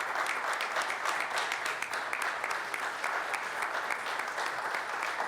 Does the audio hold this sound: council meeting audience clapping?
yes